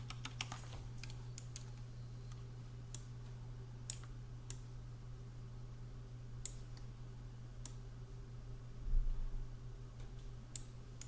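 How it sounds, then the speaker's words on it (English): Computer keyboard keys, Ctrl and arrow keys, pressed during material-editing work, as a scattering of light, irregular clicks and taps over a steady low hum, fairly close and quiet, with no voices. "So let's just press Ctrl and the arrow keys to make a bit of space."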